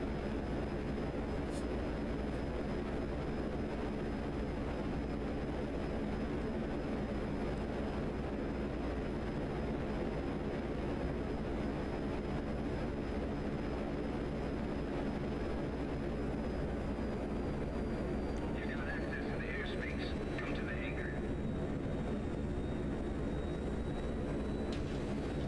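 Aircraft engine drone from a VTOL jet flying in GTA Online, a steady, loud broadband roar holding throughout with a brief higher whine shift near the end.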